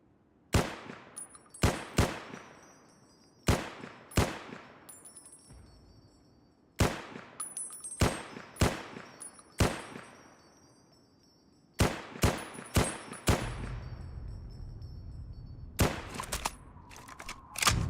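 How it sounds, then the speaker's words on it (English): Gunshots in a modded Fallout game playing the Nuclear Sunset TTW modlist: sharp single cracks with ringing decays, fired in irregular bursts and pairs, fairly loud against a quiet background, with a low rumble late on. "I don't know where the shots are coming from."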